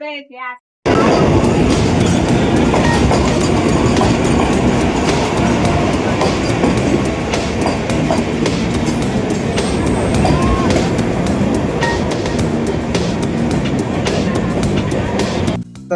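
A train roars past up close at Dadar station, loud and steady, wheels clattering on the rails for the whole stretch after a brief moment of talk at the start.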